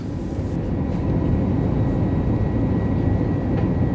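Passenger airplane cabin in flight on a plane bound for Puerto Rico, a loud steady low-pitched engine and air roar that fills the whole stretch without change, with no voices.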